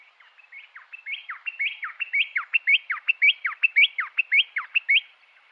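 Male rock wren song, a Neotropical wren: a rapid, rhythmic series of sharp descending whistled notes repeated about twenty times, clear and close with no talking.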